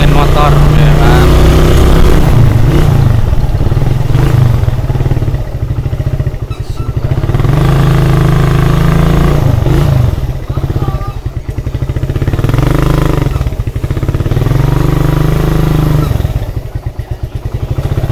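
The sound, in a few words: motorcycle engine running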